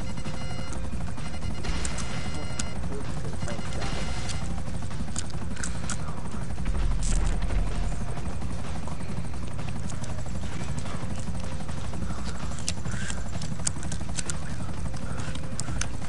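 Helicopter rotor and engine drone in a combat video game, a steady low churning hum running continuously under broadband noise, with occasional brief sharper sounds and a short louder swell midway.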